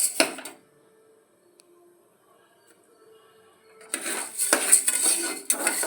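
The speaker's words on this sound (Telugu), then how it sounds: "ఇదిగో ఉలవలు వేసి ఈ ఉలవలు మొత్తం బాగా వేపుకోవాలి." Horse gram roasting in a pressure cooker is stirred with a metal utensil, producing brief clattering scrapes at the start, a quiet pause, then a second burst of close metallic stirring.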